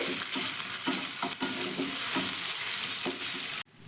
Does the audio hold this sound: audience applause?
no